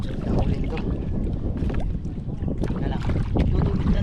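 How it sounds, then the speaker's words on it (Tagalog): Strong wind buffets the outdoors scene, roaring and gusting steadily across the whole stretch with loud low-frequency rumble, much like wind noise hitting the microphone, with a few faint voices underneath. "Malakas ang hangin"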